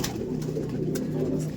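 A female pigeon at a loft coos steadily in a low, continuous throaty murmur, close by, with a few soft clicks over the top.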